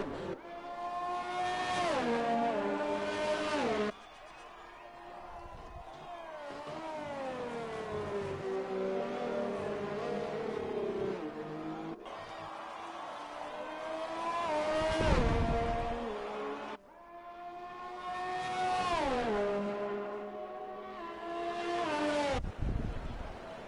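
Race cars in a racing video game run in a pack behind a safety car, engines revving and shifting through gears in long rising sweeps, loud and continuous, with tires and cars passing close by.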